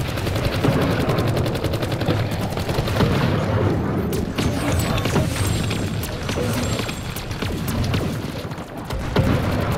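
Repeated shotgun blasts and heavy gunfire in Call of Duty: Black Ops 4 sound loud and close in a steady barrage of sharp booms, with occasional faint talk underneath.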